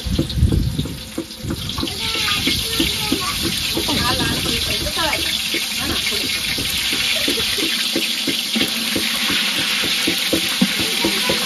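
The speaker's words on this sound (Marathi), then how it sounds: "कांदा बघा चांगला लाल होईपर्यंत आपल्याला तळून घ्यायचं तेलामध्ये" Onion frying in hot oil with bay leaf over a wood-fired stove while making mutton, a steady loud crackling sizzle with stirring clatter, heard close as someone talks over it.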